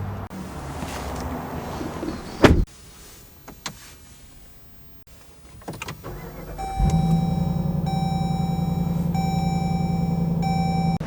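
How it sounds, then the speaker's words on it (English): In a 2025 Dodge Durango R/T, a few clicks and cabin handling noises lead into a steady electric motor hum with a faint tone as the power-adjustable steering wheel moves, lasting several seconds at close range. "Steering wheel is power adjustable."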